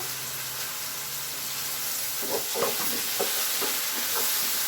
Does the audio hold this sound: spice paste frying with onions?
yes